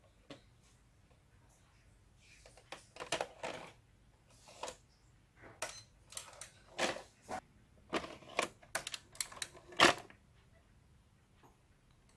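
A National NV-BS1 vintage S-VHS VCR loads and plays a tape, its transport mechanism making a quiet string of mechanical clicks, taps and short whirring bursts over a faint background hum.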